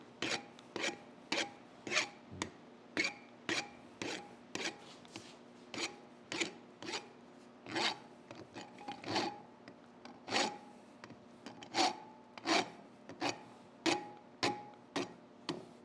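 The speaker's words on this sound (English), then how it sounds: "Gotta love hot rasping, man. It just mows through the material." A rasp files hot metal at a forge in steady, rhythmic strokes, each a scraping rasp that repeats at an even pace and sounds moderately close and fairly quiet.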